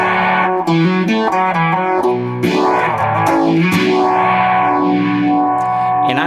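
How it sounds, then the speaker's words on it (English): Distorted electric guitar notes through a Soul Vibe rotary simulator pedal, with a swirling, sweeping modulation that rises and falls in slow waves, played loud and up front. "The Soul Vibe is a very cool pedal. It's a rotary simulator."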